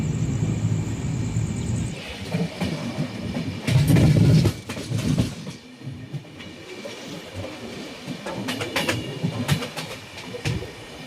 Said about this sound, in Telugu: సో ఇప్పుడే క్లియరెన్స్ వచ్చి ట్రైన్ అయితే బయలుదేరింది